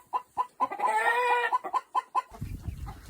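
Chickens on a homestead in Alberta cluck close by, with a rhythmic run of short clucks broken by a longer, drawn-out squawk, before a rustling, noisy stretch takes over near the end.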